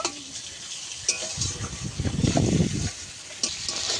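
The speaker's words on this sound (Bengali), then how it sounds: "এই পর্যায়ে দিয়ে দেব ভেজে রাখা চিচিঙ্গাটা দিয়ে ভালো করে একটু নেড়ে চেড়ে নেব" Fried snake gourd is stirred into nearly cooked potatoes in a pan, with a soft sizzle and scraping of the spatula swelling in the middle before easing off, close and fairly loud.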